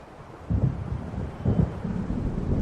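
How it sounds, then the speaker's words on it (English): Storm weather in Alan Wake: low rolling thunder swells twice over a steady wind roar, deep and heavy, with no voices. "It seems there's a storm coming."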